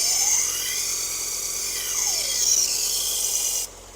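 Knife blade ground on a belt grinder with a worn 120-grit 3M Cubitron abrasive belt, a high, steady whine with sliding pitch sweeps as the blade passes, close and fairly loud, cutting off abruptly near the end.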